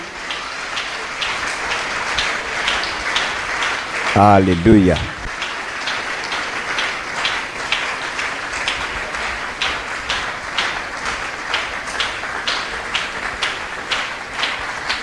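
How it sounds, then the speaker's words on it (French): Church congregation applauding steadily throughout, a dense crackle of clapping that carries from start to finish, with a brief sung or shouted voice rising over it early on. "Continuez à applaudir bien aimé nous."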